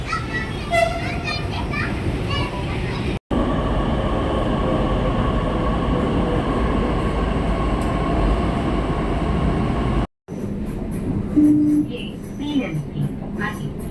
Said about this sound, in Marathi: तिथून तिकीट काढून मेट्रो पकडून